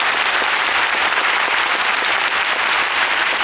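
Audience applause fills a concert hall, dense and steady clapping from a large crowd heard at a distance with no voices over it.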